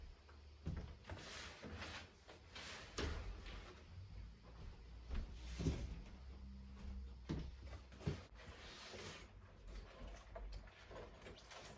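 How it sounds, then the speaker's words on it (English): Faint wooden knocks and sliding bumps from cupboard drawers being opened and shut while a wardrobe is emptied. They are scattered irregularly over a quiet indoor room background. "I'm going to take everything out of this cupboard, redo the drawers"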